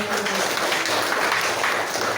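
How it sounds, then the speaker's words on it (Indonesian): An audience applauds at a school graduation ceremony, the dense wash of many hands clapping held evenly throughout at moderate loudness. "Beri tepuk tangan lagi"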